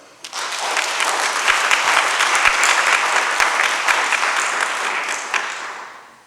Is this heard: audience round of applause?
yes